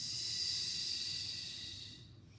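A long, steady, forceful exhale during an abdominal exercise streams out as a breathy hiss close to the microphone, fading toward the end, with no speech.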